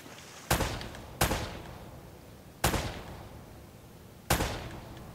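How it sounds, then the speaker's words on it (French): Four single gunshots from the PlayStation 4 game Uncharted: Drake's Fortune ring out at irregular intervals, each a loud sharp crack with a decaying tail, no talking over them. "Si on tire dessus."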